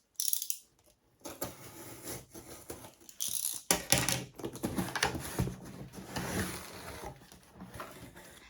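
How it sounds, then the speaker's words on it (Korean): A cardboard box of book club items is torn open, with scattered tearing, crinkling and ripping bursts of varying loudness, close by and with no talking. "그럼 이제 진짜로 상자를 한번 같이 뜯어보겠습니다"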